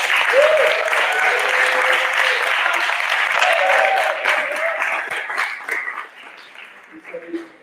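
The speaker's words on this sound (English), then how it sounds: "Give him a huge applause" Audience applause and clapping at a panel event on stage, a steady dense wash of many hands for about five seconds, then thinning and tapering off, with a voice briefly audible near the end.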